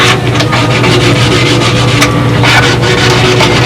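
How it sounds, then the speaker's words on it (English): Steady scratchy rubbing of sandpaper on wood around a model aircraft cowling, continuous and close, with a low hum underneath and occasional brighter scraping strokes. "We're just about finished with the sanding here."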